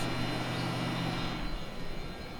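A steady broadband whooshing roar, like car air conditioning blowing hard, fills the cabin without pause.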